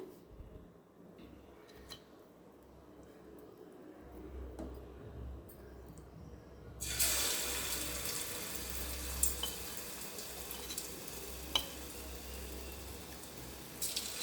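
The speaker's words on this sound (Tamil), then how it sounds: "இப்படி எடுத்து அந்த எண்ணெயில் போடணும்" Batter-coated curly parsley leaves drop into hot oil for pakoda: near-quiet background with faint clicks, then a sudden loud, bright frying hiss that keeps going with scattered pops and crackles.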